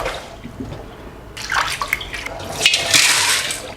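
Soybeans being washed in a bowl of water, with swishing, sloshing and dripping that grows louder and busier partway through, close by and without talk.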